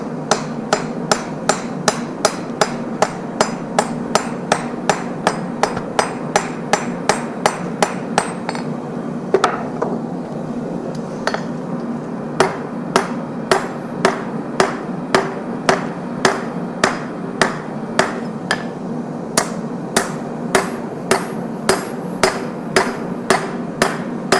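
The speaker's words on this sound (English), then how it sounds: "tear apart the layers as we are forging" A hammer strikes layered steel at a forge in a steady, evenly spaced rhythm of loud, sharp metallic blows, continuing for the whole stretch with a low forge roar underneath and no talking.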